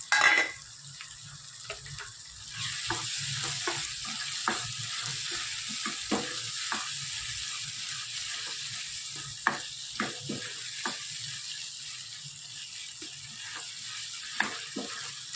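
Boiled green peas tumble into a hot frying pan and set off a steady sizzle, with a spatula scraping and tapping against the pan in scattered clicks over the frying hiss.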